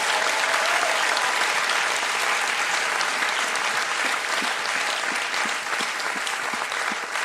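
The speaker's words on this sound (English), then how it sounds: "can I get a round of applause for my panel?" A theatre audience applauds a post-show Q&A panel, loud sustained clapping from many hands filling the room with little change over several seconds.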